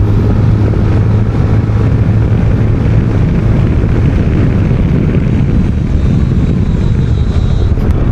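A ZONTES 368G scooter engine held at full throttle, a loud continuous roar heavily buried under rushing wind noise for the whole stretch.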